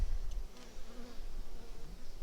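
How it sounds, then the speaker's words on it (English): Honey bees buzz around a hive during honey harvest prep, a faint, close, continuous hum with wingbeat tones wavering as individual bees pass. "hopefully the bees will go down through here out of the bee escape"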